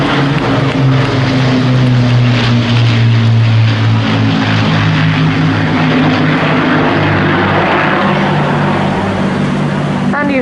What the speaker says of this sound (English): the sound of that those Merlin engines is just iconic